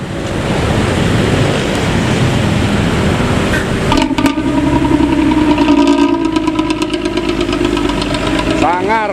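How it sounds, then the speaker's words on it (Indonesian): A Pantura bus with a loud snoring exhaust idles and rumbles nearby on a congested road. Heavy, rough engine noise runs throughout, a clattering burst comes partway through, then a rising whine, with speech mixed in. "bis Pantura yang masih aktif knalpot ngorok"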